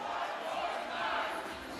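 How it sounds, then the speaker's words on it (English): A raucous crowd at PBA League bowling quarterfinals in Portland, Maine, with a steady, dense roar of voices and cheering that holds loud and unbroken throughout. "there's no way we can talk above the crowd. Raucous environment."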